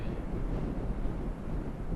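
Wind buffets a microphone at a lakeside in Milang, a steady low rumbling roar with gusty fluctuations and no other sounds.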